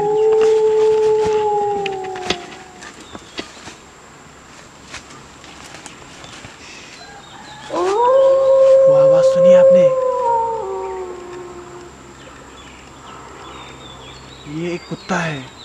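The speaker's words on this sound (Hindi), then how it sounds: "कुत्ता है ऐसा वैसा नहीं जंगली कुत्ता" A wild dog howls in a jungle: two long, wavering, gliding howls a few seconds apart, fairly close and clear over a low background hum with faint rustling between them.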